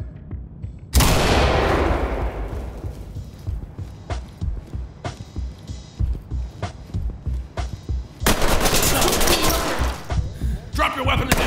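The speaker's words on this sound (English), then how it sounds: "Deploy flashbangs and copy clear." A sharp flashbang blast followed by scattered gunshots and bursts of rifle fire inside a datacenter building in the Ready or Not tactical shooter, loud and close, with a second heavy blast near the end.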